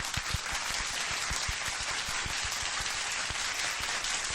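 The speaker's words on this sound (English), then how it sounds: "Round of applause." A round of applause called for on a live MMA talk stream, heard as a dense continuous wash of clapping with a few sharper individual claps standing out throughout.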